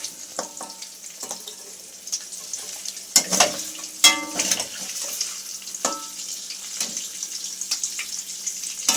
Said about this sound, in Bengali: আমি এবারে হলুদ আর নুন জল নিয়ে নিয়েছি, এতে দিয়ে দেব